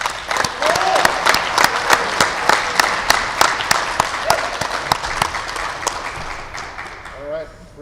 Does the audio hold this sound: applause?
yes